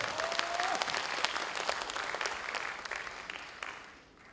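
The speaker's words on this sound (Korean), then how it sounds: "저 말에 동의하시는 분은 박수를 한번 보내주시기 바라겠습니다." Delegates at a regional party convention and joint campaign rally applaud a candidate's speech, a sustained crowd ovation of sharp, dense clapping with scattered louder claps, easing slightly toward the end.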